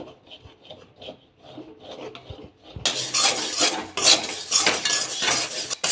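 A thickening peda sandesh mixture is stirred in a pan: soft scattered scraping at first, then from midway a loud, continuous rasping rub of the spoon dragging through the stiff paste.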